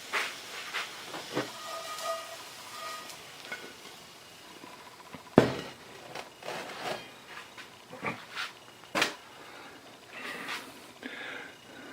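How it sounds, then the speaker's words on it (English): Food browning in a skillet, a steady soft sizzle and hiss with scattered pops and crackles, plus a few louder clattering knocks of a utensil against the pan. "then just brown it off in the skillet just finishes it off just right"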